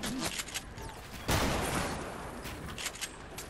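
Bursts of gunfire in Fortnite strike the player, a loud crackle of shots with one sharp heavier burst in the middle amid game noise.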